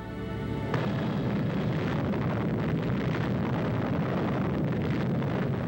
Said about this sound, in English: The tremendous detonation, felt 260 miles away, shakes the earth under the soldiers